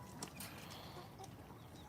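Chickens in a crowded coop make soft, scattered clucks and short calls, faint against a low background hum, with no one speaking.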